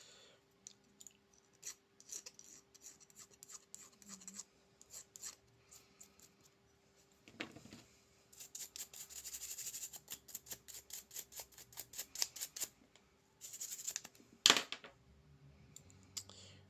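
Small metal parts for an SCW9 full-auto build are filed by hand, giving quiet, close rasping strokes that come in a quick steady rhythm through the middle of the clip, with light clicks and handling noises around them.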